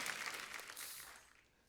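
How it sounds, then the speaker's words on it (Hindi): Studio audience applause at a televised comedy show, heard faintly as a soft, dense patter that tapers off and fades out within about two seconds. "जोरदार तालियां हो जाएगी।"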